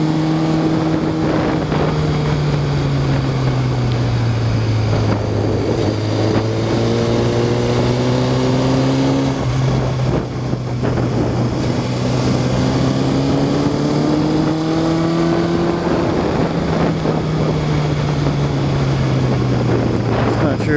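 Modified Honda CB600 Hornet motorcycle ridden along an open road, a loud continuous engine drone that rises and falls through the gears, heavy wind rush over the microphone, with a rider talking over it.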